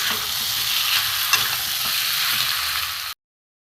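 Papaya pieces and spices stir-fry in a hot pan, a dense continuous sizzle with a few spatula scrapes, close and steady, then cutting off abruptly.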